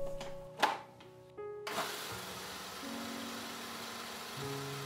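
A blender runs on margarine poured over crumbled biscuits for a vegan mocha cheesecake base, starting with a sharp burst after a few clicks and then churning steadily and loudly to the end with shifting motor pitch.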